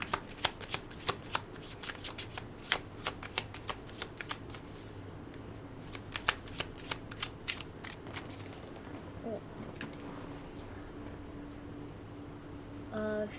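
Tarot cards being shuffled up close, with rapid riffling bursts and crisp slaps repeating in an uneven rhythm over quiet room tone, ending in a faint scrape.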